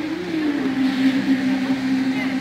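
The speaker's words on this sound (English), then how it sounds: "Well, listen to that motorcycle go." A motorcycle engine runs during a baseball game, giving a steady droning hum that holds at a moderate level throughout with a slight rise and fall in pitch.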